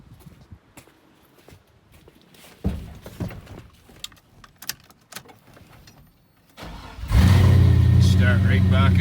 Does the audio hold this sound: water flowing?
no